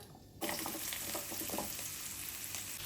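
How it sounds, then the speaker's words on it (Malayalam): Chickpeas deep-frying until crisp in hot oil over a medium flame give a dense, steady crackling sizzle that starts abruptly and carries on close and loud without a break. "കടലയൊക്കെ ഇവിടെ നല്ല ക്രിസ്പി ആയിട്ട് ഫ്രൈ ആക്കി വെച്ചിട്ടുണ്ട് സൗണ്ട് കേട്ടോ"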